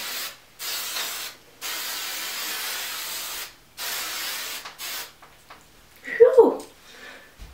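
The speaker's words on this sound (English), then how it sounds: "I'm going to take my hairspray and just lightly, I spray the entire thing." Several short hissing bursts from an aerosol hairspray can, close by, separated by brief pauses, followed by a faint voice at the end.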